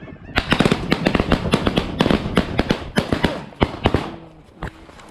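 A quick series of sharp shots rings out during a bird hunt, about a dozen loud cracks in an irregular burst, some coming almost together. A faint voice is audible toward the end.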